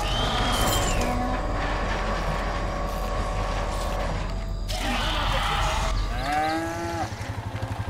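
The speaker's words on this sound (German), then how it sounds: "So, dann werden wir die Kuh hier einmal rüber bewegen." A cow moos in the LEGO Jurassic World video game, a long low call heard over a steady rumbling game soundtrack, with a couple of shorter animal calls following.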